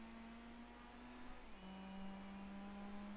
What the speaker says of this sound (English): What is with the car sounds, man?